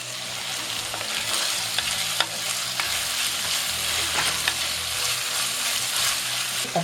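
Curry leaves hit hot oil in a pan while cooking a Kerala-style tapioca mutton curry, giving a steady sizzle with scattered pops and scraping stirs.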